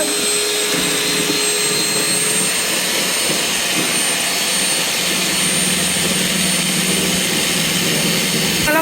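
Electric mixer beating sugar for cake batter, a steady loud whirring drone that runs unbroken and close throughout.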